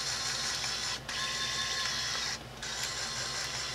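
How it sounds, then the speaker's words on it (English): Steady whirring and ticking of a small motorized rudder mechanism on a 64-gun ship of the line model, a continuous close mechanical buzz with two brief pauses. "A motorized rudder."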